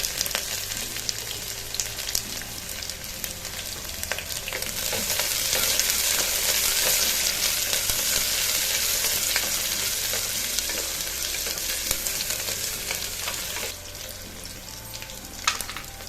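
Onions and green chillies sizzle loudly in hot oil with whole spices in a pan for tomato rice, a steady close frying hiss with occasional stirring scrapes and no talk.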